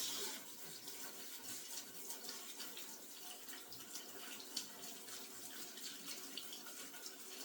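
Tap water runs steadily into a kitchen sink during washing up, a continuous soft hiss and splash with faint clinks, fairly quiet and alone without talk.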